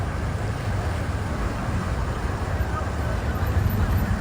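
Flash flood water rushes through Arba Minch town after a night of heavy rain, a dense, continuous low roar of churning water that fills the whole clip.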